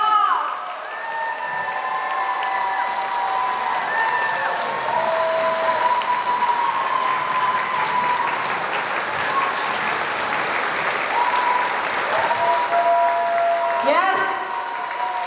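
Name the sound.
audience applause at gala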